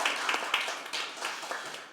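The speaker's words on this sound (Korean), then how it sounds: "이 책에 대해서 박수 한번 쳐주시죠" An audience at a debate on teachers' political rights gives a short round of applause for a book on education, faint, scattered clapping that stays quiet and distant throughout.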